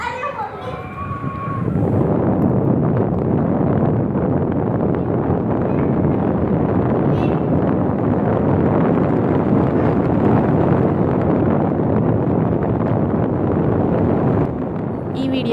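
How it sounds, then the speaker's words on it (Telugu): Strong wind rushes steadily through an open balcony door and roars across the microphone, loud and continuous after a brief quieter moment at the start. "ఒకసారి డోర్ తీస్తాను గాలి ఎలా వస్తుంది చూడండి"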